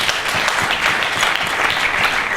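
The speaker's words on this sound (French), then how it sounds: "Est-ce qu'on peut acclamer cela?" An audience at a Christian literature fair in Kinshasa claps loudly and continuously in a dense, even burst of applause.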